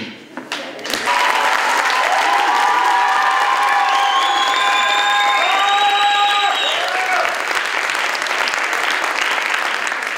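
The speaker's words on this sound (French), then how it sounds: "voilà des applaudissements et un salut des artistes" Audience applause and cheering after a community stage show, a burst that rises quickly and holds strong and steady, with shouts and whistles riding over the clapping.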